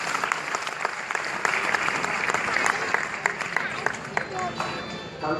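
Loud, sustained audience applause right after a patriotic song at a live poetry event, dense clapping from a large crowd with a few sharper claps standing out, no voices clearly over it.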